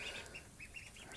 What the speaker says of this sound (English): Today we received our order of ducklings, 29 in all.